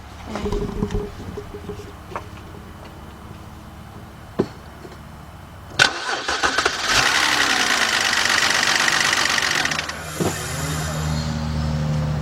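A 2007 BMW 328xi engine with a ticking noise cranks and catches with a sharp start, then settles into a steady, loud running idle; softer clicks and knocks come before it.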